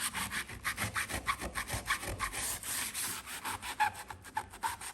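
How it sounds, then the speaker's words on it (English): Rhythmic back-and-forth rasping of a sanding block knocking down paint runs on a bedroom wall, steady strokes close by with no talking. "There's just a few runs that I'm gonna knock down with some the sanding block"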